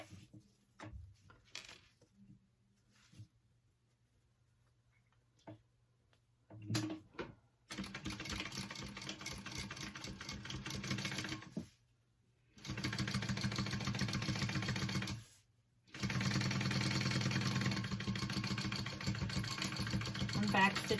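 A sewing machine top stitching a tote bag runs in long steady bursts with brief pauses between, a close mechanical whir and rapid needle clatter, with quiet handling sounds before it starts.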